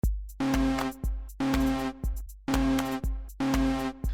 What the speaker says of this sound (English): this is the sound of the spoiler warning